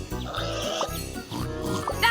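Cartoon pigs oink and grunt in a train video game, a run of short, close snorts and squeals under light game music, with a voice speaking over them.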